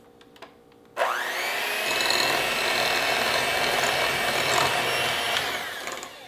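A stand mixer creams butter and powdered sugar for Danish butter cookies, starting after a second of quiet with a loud, steady motor whir and beater churn that runs unbroken to the end.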